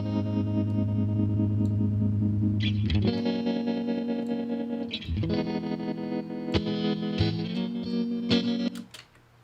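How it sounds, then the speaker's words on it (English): Guitar played through a bias tremolo effect modeled on a 1960 Vox AC15 in Helix Native software: sustained chords that pulse in a steady, rhythmic volume wobble, with a few fresh strums and no talking. "Bias tremolo is going to be based on the 1960 Vox AC15 tremolo"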